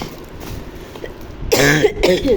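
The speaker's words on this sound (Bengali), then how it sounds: "আমার অসুখ, কাশি একদমই ভালো হচ্ছে না।" A person with a lingering illness gives a couple of sharp, close coughs after a brief quiet moment, loud against faint room background.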